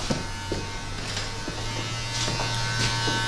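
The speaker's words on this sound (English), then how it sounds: "I'm gonna halfway close my clipper. And I'm gonna start balding this out a little bit." An electric hair clipper buzzes steadily at close range during a fade haircut, a constant motorized hum with light cutting strokes over the hair and no voices.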